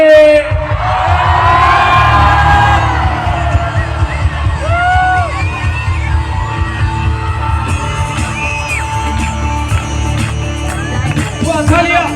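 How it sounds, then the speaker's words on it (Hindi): A large crowd at a Christian revival festival on a school ground in Ranchi shouts and cheers loudly, with sustained yelling and whoops layered over a booming PA backdrop. "कम ऑन, एक और बार चिल्लाएंगे जोर से"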